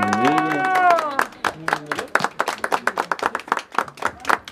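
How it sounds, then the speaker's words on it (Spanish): An audience at a mariachi birthday performance breaks into lively clapping after a voice at the start. The applause is dense and continuous, close and fairly loud, and it carries on to the end. "Y ese aplauso bien lindo para ella."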